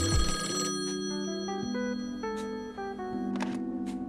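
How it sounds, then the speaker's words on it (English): A telephone rings in the video game Call of the Elder Gods, a loud, close electronic ringing with sustained tonal notes and a few sharp clicks, heard alone without talk. "there's the phone."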